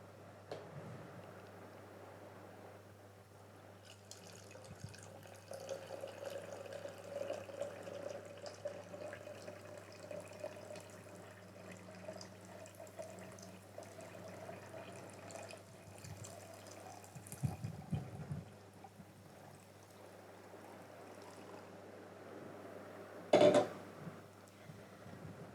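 Nearly boiling water, 500 ml, pours steadily into a large container for cleaning-product preparation, a soft continuous liquid rush at close range with a brief louder splash near the end.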